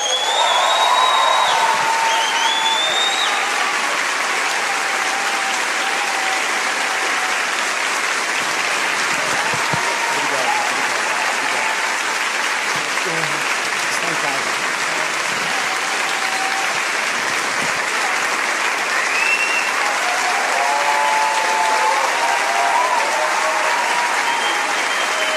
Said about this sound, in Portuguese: recebam com aquele caloroso aplauso o nosso ministro dos Direitos Humanos e da Cidadania, Silvio Almeida.